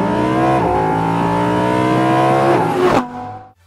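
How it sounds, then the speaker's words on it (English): An Audi R8 V10 supercar engine revs loud and close, a steady high-pitched wail holding for about three seconds with a brief blip before cutting off abruptly into silence. "We've actually recently had a chance to experience what a V10 R8 can be like."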